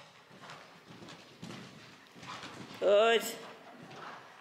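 A horse cantering over a show jumping course, with muffled hoofbeats thudding rhythmically beneath a rider and coach talking close by.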